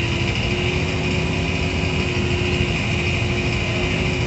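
A small tractor fitted with a leveling blade works a sugarcane loading area, its engine droning steadily and close with a constant hum and no pauses.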